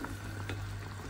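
Food for a tagine fries in oil while being stirred, a close, continuous crackling sizzle with soft scraping movements, brief and fairly quiet, with no talk.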